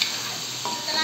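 Boiled, washed pork ribs are stirred into spices sizzling in a pan, giving a steady close frying hiss with a faint scrape of the spoon partway through.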